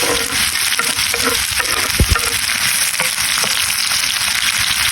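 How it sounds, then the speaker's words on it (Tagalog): Garlic and onions sauté in a pan for corned beef pastel, giving a loud, continuous sizzle with a few clanks from stirring. "Unahin na muna natin ang ating bawang. Maraming sibuyas."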